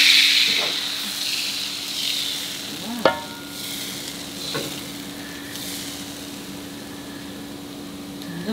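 Bánh xèo batter with squid and garlic chives is poured into a hot, oiled frying pan, giving a loud, steady sizzling hiss that starts strong and settles into continuous frying crackle, with a few clicks of the pan and no talking.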